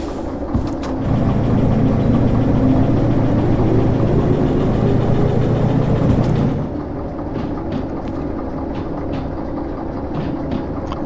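A locomotive engine in the train simulator Derail Valley runs with a loud, steady low rumble, then drops to a quieter idle partway through, with no talk over it.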